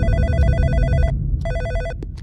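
An office telephone bell rings twice, loud and near, each ring a bright rapid trill followed by a short pause.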